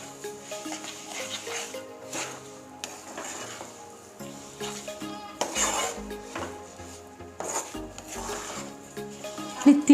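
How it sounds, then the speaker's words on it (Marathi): Sesame seeds are stirred into melted jaggery in a hot pan for tilgul ladoo, with repeated scraping and clinking of a spoon against the metal, close and uneven in rhythm. "अशा पद्धतीने पूर्ण गूळ जो आहे तो मिक्स करून घ्यायचा आहे।"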